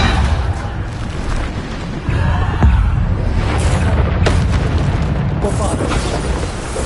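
Spell explosions in the Hogwarts video game, a dense, loud barrage of booming blasts and bursts that rumble continuously with sharper cracks scattered through, while a voice keeps calling out over the chaos.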